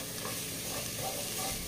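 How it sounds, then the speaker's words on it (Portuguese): Garlic fries in olive oil in a pan, giving a continuous, even sizzle and crackle at moderate volume with no speech over it. "Aqui nessa outra panela, eu coloquei azeite"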